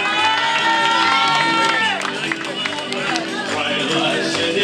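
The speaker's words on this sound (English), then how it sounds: "Give us another round of applause" An audience claps and cheers for a tribute singer at a live show: dense, continuous applause mixed with whoops and shouts, loud and close throughout.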